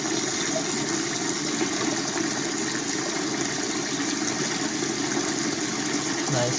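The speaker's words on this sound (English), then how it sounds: "Nice hot water. You can see all the sediment there coming out of it." Hot water gushes steadily from a failed mixing valve on a Weil-McLain boiler, carrying sediment out as it runs. The broadband rushing flow stays constant and fairly close, with no talk over it.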